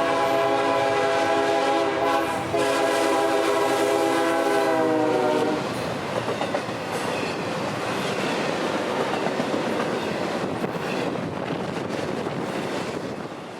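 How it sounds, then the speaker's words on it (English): A long freight train, I-044, rolls north out of Tampa behind a single locomotive, its horn sounding in steady harmonic blasts for the first five seconds before giving way to a loud, continuous rumble and clatter of passing cars with wind buffeting the microphone. "I-044 pounds north from Tampa with a good train and trail, led by a solo leader once more"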